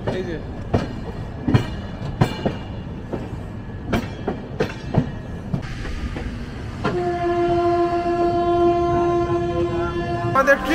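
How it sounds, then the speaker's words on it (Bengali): The Himgiri Express pulls into Ludhiana junction, with loud rhythmic clacks of wheels over rail joints, then a long sustained horn blast. The sound is close and continuous. "আমাদের ট্রেন এখন লুধিয়ানা ঢুকছে।"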